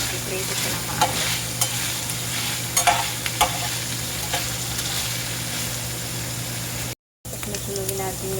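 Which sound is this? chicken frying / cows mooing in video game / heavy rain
chicken frying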